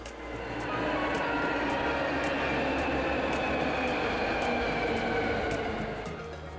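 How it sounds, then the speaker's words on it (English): A train pulls into a station in Kyoto with a steady loud rumble and roar that swells and holds, faint regular clicks overhead, and no talking. "just waiting for the train to come by"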